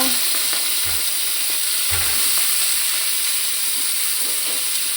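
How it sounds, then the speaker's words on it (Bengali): Panch phoron spices sizzle steadily in hot oil while cabbage greens are cooked, with the scrape of stirring running through a continuous, close frying hiss and no talking. "পাঁচফোড়ন দিয়ে দিলাম"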